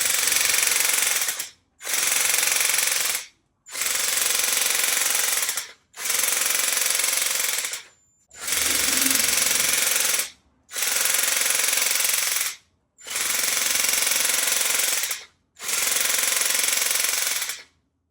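A cordless drill-driven paint sprayer runs in nine short bursts of a loud, harsh mechanical whir, each separated by brief silences.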